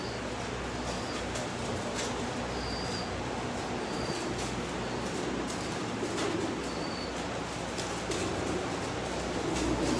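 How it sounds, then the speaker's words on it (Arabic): A flock of pigeons feeding on fortified barley, with soft low cooing and scattered pecking under a constant dense background hum, no talk. "كل الحمام ياكل"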